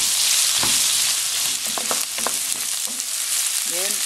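Shrimp fry in a pan for ginisang toge, giving a steady, close sizzle with a few soft clinks and stirring sounds and no talking.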